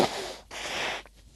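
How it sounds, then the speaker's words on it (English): A person blows their nose in a couple of quick, breathy bursts, close to the microphone, with a brief pause between them. "I'm going to blow my nose really quick here."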